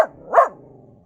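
A single loud dog bark close by inside a cabin, with a softer bark at the very start and a fading tail afterwards.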